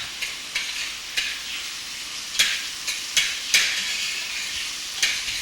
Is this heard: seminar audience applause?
no